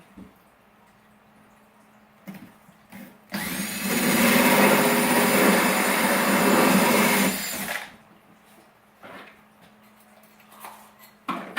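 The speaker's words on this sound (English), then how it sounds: "Okay, so we drilled" A power drill bores through material while an indoor Kratky hydroponic system is being set up, a loud steady whine lasting about four seconds between quieter handling noises.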